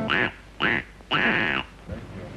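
A duck gives three loud, nasal quacks close by, the third drawn out longer, followed by a fainter fourth call, with no talking over them.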